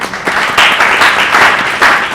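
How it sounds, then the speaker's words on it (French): Applause from a workshop audience at an event about revising the electoral list, a steady wash of many hands clapping that swells in waves and carries on for a couple of seconds, fairly loud and close. "que je vais vous demander d'applaudir s'il vous plaît."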